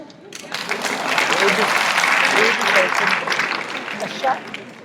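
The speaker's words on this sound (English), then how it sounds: "we applaud" A crowd applauds steadily at a formal gathering, a dense continuous wash of clapping with some voices mixed in, swelling in the middle and tapering near the end.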